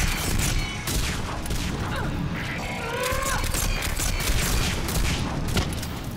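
Pulse rifle fire in Mass Effect 3, a sustained dense wash of rapid energy-weapon shots amid a noisy battle, loud and continuous without pause.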